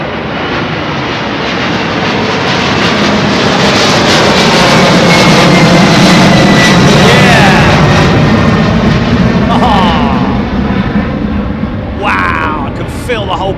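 Jet airliner taking off at Heathrow Airport in a crosswind, a loud, close engine roar that swells to a peak mid-way and holds, with a rumbling low end; a voice speaks briefly toward the end.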